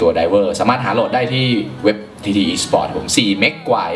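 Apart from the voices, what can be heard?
No everyday noise stands out behind the speech.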